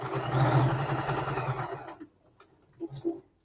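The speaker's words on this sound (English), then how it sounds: "I'm going to just sew 1/4 of an inch along to this dot" A domestic sewing machine runs a seam for about two seconds with a fast, even mechanical whir and needle clatter, then stops, leaving a few faint clicks and handling taps.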